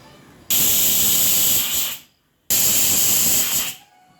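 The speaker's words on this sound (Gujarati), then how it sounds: "કુકર બંધ કરીને બે સીટીઓ લઈ લઈશું" Pressure cooker whistle blasting steam in a kitchen while Gujarati guvar dhokli cooks inside, two loud hissing bursts of about a second and a half each, separated by a short near-silent gap.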